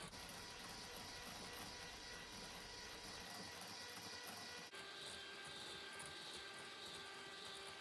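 Electric hand mixer whirring steadily through lemon cake batter with added oil and butter, a continuous high-speed motor drone that shifts pitch slightly partway as the speed changes, no voices.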